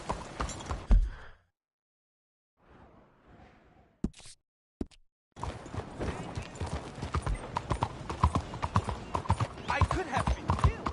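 Horse hooves clip-clop in a video game: a few isolated hits and a short whinny-like burst give way to a steady run of rhythmic hoofbeats under game dialogue.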